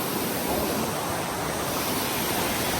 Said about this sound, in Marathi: खूप डेंजर धबधबा आहे इथं